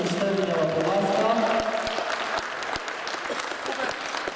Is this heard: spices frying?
no